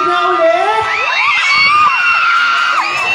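A lively crowd of supporters at a pageant Q&A portion cheers and whoops loudly for contestant Gianna, high excited shouts and yells rising and overlapping in a sustained burst close to the microphone.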